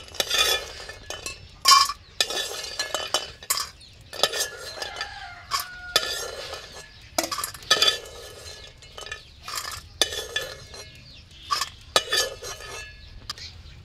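Pieces frying in hot oil in a pan as a metal spoon stirs them, a steady soft sizzle broken by repeated sharp scrapes and clinks of utensil against pan, close and fairly loud with no talking.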